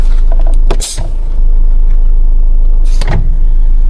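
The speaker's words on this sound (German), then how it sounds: "Damit wurde jetzt quasi im Verteilergetriebe die Zahnräder in die richtige Stellung gebracht." A loud mechanical clunk as an Iveco Daily 4x4 pneumatic transfer case engages gear, then a second heavy thunk a couple of seconds later, over a steady low vehicle rumble, with no speech.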